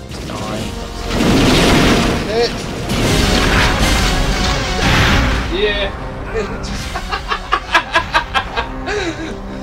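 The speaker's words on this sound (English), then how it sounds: "I blew myself up on that one, apparently." A loud booming blast from a rocket in the video game Perfect Dark, followed by game effects and a rapid series of short tonal beeps, with laughter or chuckling over it.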